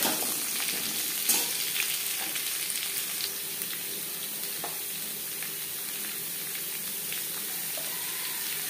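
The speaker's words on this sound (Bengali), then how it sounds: "জিরে তেজপাতা ভেজে নেওয়ার পর দিয়ে দেবো পেঁপে" Raw papaya dropped into hot oil with fried cumin seeds and bay leaf, sizzling and frying steadily throughout, with occasional stirring clinks and no talking.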